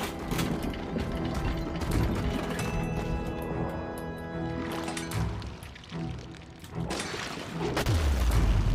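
A machine is cranked in the game Bendy and the Ink Machine, a loud, continuous mechanical ratcheting and grinding with steady clicks over a dense, rumbling background.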